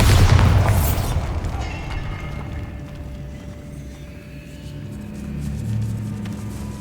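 A Bombarda spell explosion in Hogwarts Legacy bursts loudly at the start, a sharp blast with a bright crackle that decays into a long low rumble and debris scatter, swelling again faintly near the end.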